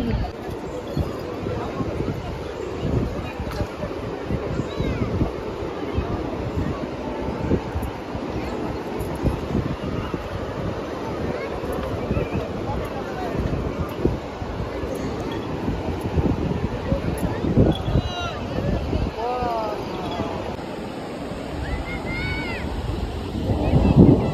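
Steady wind roaring at the seashore at Digha, with surf rumbling underneath and people talking faintly in the background throughout.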